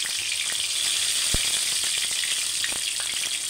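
A tomato sizzles in hot oil in a kadai with a continuous loud frying hiss, close by, broken by a few sharp pops and spatters, with no talking.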